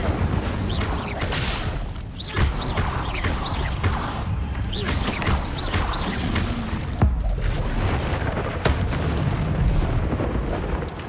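Fiery spell blasts in the Hogwarts Legacy game, loud whooshing bursts and crashing booms that repeat densely over a constant roar of effects, with a voice speaking over them now and then.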